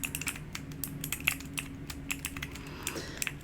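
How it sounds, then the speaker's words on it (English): A keyboard clicker fidget toy in baby pink and mint, fitted with blue switches, clicks in a quick, steady stream of sharp, close taps with no voices. "This is a keyboard clicker I got as a birthday gift a few years ago"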